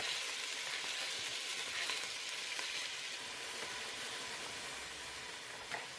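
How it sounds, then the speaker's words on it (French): Vegetables hit hot oil in a pan in a Peruvian kitchen, giving a steady, even sizzle that holds for several seconds with no voices. "L'huile est chaude. Je mets mes légumes dedans."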